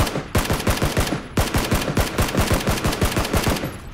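Rapid bursts of automatic gunfire from the video game PUBG, two long volleys of loud, evenly spaced shots separated by a short gap, close and alone without talk.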